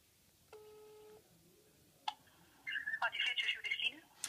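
Telephone call being placed: a short dial-tone burst, a click, then a quick run of DTMF dialing beeps, heard faint and close as if through a handset.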